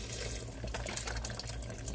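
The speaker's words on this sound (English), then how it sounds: "I'm going to go ahead and add uh, the first four cups of chicken broth. Just pour it right in there." Chicken broth poured from a container into a hot soup pot of seasoned ground turkey and potatoes, a steady close liquid splash and gurgle running the whole time with no talking.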